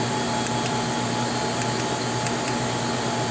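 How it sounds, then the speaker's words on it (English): Mechanical vacuum pump starting up on a Denton benchtop turbo evaporator, heard as a steady, loud mechanical hum and whir with a constant tonal drone and broadband hiss, running without pause and no talking. "First the mechanical pump starts"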